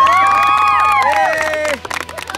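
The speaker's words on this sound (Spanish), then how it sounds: "Un aplauso." A crowd cheers and shouts loudly with excited voices, the roar fading after a couple of seconds into scattered noise.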